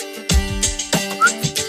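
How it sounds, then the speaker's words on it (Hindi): A person whistles a short, halting tune of several separate notes close to the microphone, with faint voices and background sound behind it. "कहा ना सीटी बजाओ"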